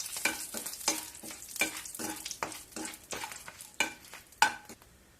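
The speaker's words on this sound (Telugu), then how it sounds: "బిర్యానీ ఆకు, లైట్గా వేగన వరకు" Bay leaf frying lightly in oil while being stirred, a soft sizzle broken by a quick, irregular series of close scrapes and taps of the spoon against the pan, quiet and with no talking.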